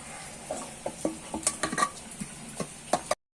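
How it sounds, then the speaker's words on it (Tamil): Chicken pieces stirred into onion and tomato in a pan while cooking a Tamil-style chicken dum biryani: repeated scraping clinks of a spoon against the metal pan over a low sizzle, close by, with no talking. "இப்போ நம்ம சிக்கன் ஆட் பண்ணிட்டோம். நல்லா கிளறி விட்டுக்கலாம்."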